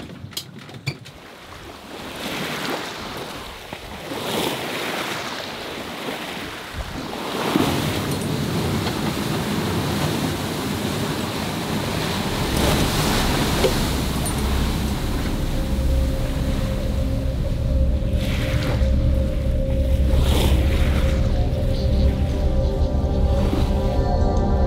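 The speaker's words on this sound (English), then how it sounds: "The hours stretched out in front of us, with nothing but the sound of the wind and the waves." Wind and ocean waves wash around a sailing boat at sea, a continuous rushing roar with surging swells, joined midway by a steady low mechanical hum from the vessel.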